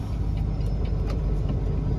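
A dump truck turns in, its engine giving a steady, close, low rumble with faint higher rattles and no voices.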